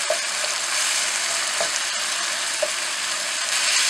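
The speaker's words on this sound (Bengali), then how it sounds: "আদা জিরে বাটা যা দিয়েছিলাম, কাঁচা লঙ্কা বাটা, এগুলো আমি এবার ফুলকপি আলুর সাথে আমি সবটাই মিক্স করে নিলাম" Ginger-cumin paste and green chilli paste being stirred into cauliflower and potatoes in a hot pan, a steady loud sizzle with a few soft spoon scrapes against the pan.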